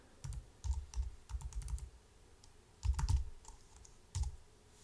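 A search being typed on a computer keyboard, close clicky keystrokes in quick bursts separated by brief pauses, with no talking.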